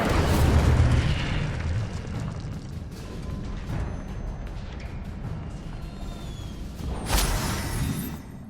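An Incendio fire spell in Hogwarts Legacy erupts with a loud whooshing burst and boom, then a rumbling fiery tail, and a second sharp flare near the end.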